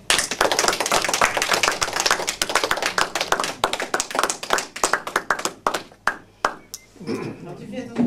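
Audience applause for a singer, dense and loud at first, then thinning into scattered individual claps that trail off near the end.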